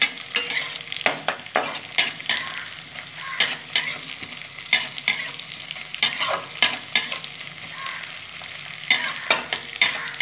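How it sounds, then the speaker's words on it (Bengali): Garlic and green chillies frying in a pan, with a steady oil sizzle broken by repeated bursts of stirring and scraping over about ten seconds. "ভালো করে ভাজা ভাজা করে নেবো"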